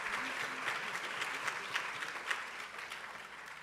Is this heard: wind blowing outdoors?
no